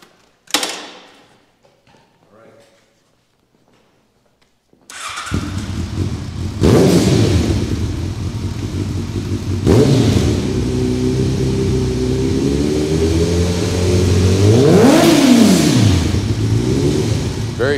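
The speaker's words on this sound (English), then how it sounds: "would you do the honors for us and ride it into the museum?" A 2005 Kawasaki ZRX1200 motorcycle fires up after a brief quiet spell, then idles and revs loudly up close, the engine note rising and falling through several throttle blips as it pulls away.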